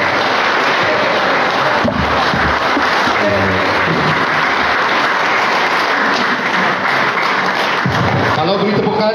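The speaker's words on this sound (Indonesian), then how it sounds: "Kalau beri tepukan yang terbaik untuk Presiden kita." A large audience at an evening political gathering applauds the president, a loud, continuous roar of clapping mixed with crowd noise and occasional voices throughout.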